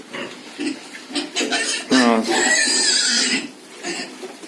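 Piglets grunting and squealing close by, with a loud drawn-out squeal in the middle and softer snuffling grunts around it.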